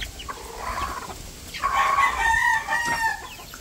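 Roosters crowing and chickens clucking on a small chicken farm, a couple of drawn-out crows rising over scattered clucks and rustling, fairly close, with no talk.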